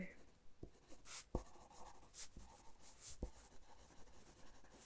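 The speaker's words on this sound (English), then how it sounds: "I'm using a pencil because another doctor stole my pen" Pencil scratches across paper in short, close strokes with small taps between them, soft and quiet in a calm hospital room.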